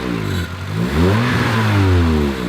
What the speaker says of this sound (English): got an exhaust leak